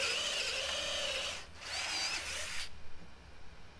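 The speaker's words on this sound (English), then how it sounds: "I can use these now to drill my hole down into the post" A drill whirs into a wooden bed post in two bursts, the motor pitch wavering as it bites, then spins down and stops.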